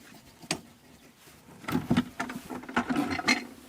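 Tool-free screws being twisted out of the rear bench of a 2024 VW ID Buzz GTX, giving a quick cluster of close plastic clicks and rubbing scrapes after a single early tap.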